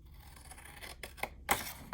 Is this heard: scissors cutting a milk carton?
yes